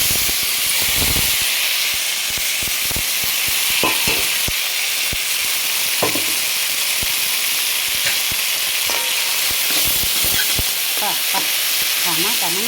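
Cooked lentils going into a hot tempering of dried red chilies, curry leaves and asafoetida in a pan, giving a loud, continuous steamy hiss with scattered stirring clicks and a brief faint voice.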